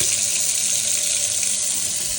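Tap water runs steadily from a bathroom faucet with good pressure, a continuous close hiss filling the whole moment without pause.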